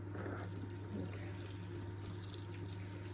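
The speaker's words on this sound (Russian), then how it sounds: "Для этого я сейчас горячую воду налью на него." Hot water poured from a faucet over garlic, a faint steady splashing trickle beneath a low constant hum in a kitchen.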